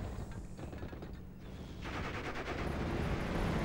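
Dense rattling gunfire fills the World War II strategy game Steel Division Normandy 44, sustained bursts of automatic fire growing louder toward the end with no voices.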